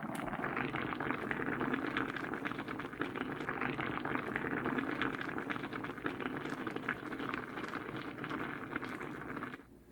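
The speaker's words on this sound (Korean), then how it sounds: "청국장 넣고 2분만 더 끓이시면 완성이 됩니다" A pot of cheonggukjang, a spicy fermented soybean stew finished with green onion and cheongyang chili, bubbles at a steady rolling boil, a close, dense burbling that continues evenly before cutting off at the end.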